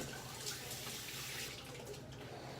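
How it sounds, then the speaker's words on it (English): Tap water running over hands in a kitchen sink while flour is washed off, a steady close splashing rush with slight shifts as the hands move through the stream, no speech. "Let me wash my hands off, get the flour off my hand."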